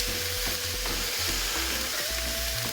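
Ground beef, 500 g, browning in a pan for a spaghetti squash bolognese gives a steady, close sizzle and crackle throughout, with low background music underneath.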